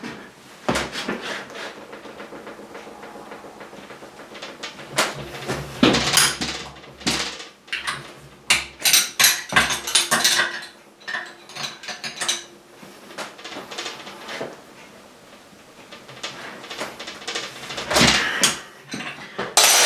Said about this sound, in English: The actual bolt's rotating. Twisting the bolt in the rig.